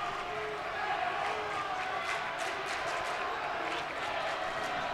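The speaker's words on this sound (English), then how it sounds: "ESM fans booing on that call and the JD fans feeding off of it" Basketball crowd at a high school boys' game between East Syracuse-Minoa and Jamesville-DeWitt in a gym, a sustained roar of booing and shouting after a travel call, loud and continuous throughout.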